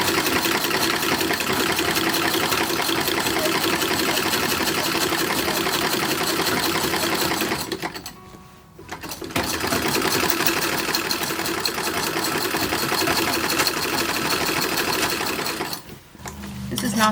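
A sewing machine stitches a felled seam on a reproduction WWI Motor Corps uniform, whirring steadily and close by, stopping briefly twice before running on again.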